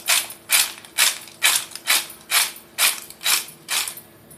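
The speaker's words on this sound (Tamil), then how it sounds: "எவ்வளோ கிறிஸ்பியாக இருக்குது பாருங்கள் இந்த மாதிரி நொறுக்கணுங்க" Loud, crisp crunching bites of a fried snack, about nine evenly spaced crunches in a steady rhythm, close up with no talking.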